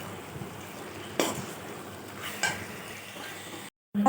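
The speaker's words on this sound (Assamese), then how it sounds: "এতিয়া ধুনীয়াকৈ দহিখিনি দি আমি মিলাই" Yogurt is stirred into chicken biryani meat in a pot, giving a soft, steady sizzling hiss with a couple of faint scraping strokes before a sudden cutoff.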